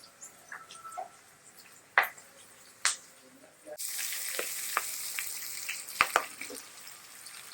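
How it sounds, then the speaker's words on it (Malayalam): Chopped shallots and onions hiss and sizzle in a pan for a murrel fish roast, the frying swelling suddenly louder once they drop in, with scattered clinks and stirring scrapes before and during. "ഇനി ഇതിലോട്ട് അരിഞ്ഞു വെച്ചിരിക്കുന്ന ചെറിയ ഉള്ളിയും സവാളയും ഇട്ട് കൊടുക്കുന്നു"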